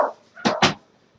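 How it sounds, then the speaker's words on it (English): Dogs bark in two sharp, loud yelps, close by, with a brief whimper just before and no voices over them. "Now the dogs are going to freak out."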